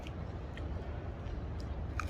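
Crunchy bitter gourd bitten and chewed up close, a steady dense crunching over the whole stretch with a few sharper bite clicks, alone without talk.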